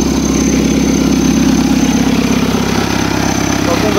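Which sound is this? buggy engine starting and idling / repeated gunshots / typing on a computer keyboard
buggy engine starting and idling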